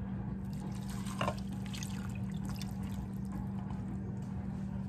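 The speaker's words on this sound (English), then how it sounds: "Next, we're going to add 3/4 cup of water." Water poured into pork gravy mix for smothered pork chops, a steady close trickling pour running the full length under a low constant hum, with no talking.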